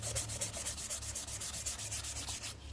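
A polymer clay bowl is hand sanded with wet dry sandpaper, giving close, quick rhythmic scratching strokes back and forth, about a dozen in a steady run with no voices.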